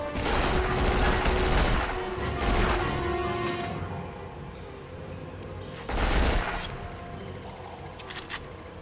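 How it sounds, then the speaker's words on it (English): Submachine gun fire in the PS2 shooter Black, with dense bursts of loud automatic gunfire over the first few seconds, a quieter stretch, then another sharp burst and fading mechanical clatter. "we're all using submachine guns"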